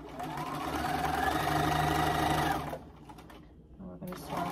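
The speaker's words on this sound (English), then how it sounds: "Now we're going to sew part of the tie down." Sewing machine stitching down the tie on a wheelchair pocket bag, a steady rapid mechanical whir for under three seconds, then stopping, followed by faint handling sounds.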